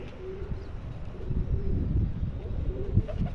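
Pigeon cooing in low, soft repeated phrases over a steady background murmur, with no one talking.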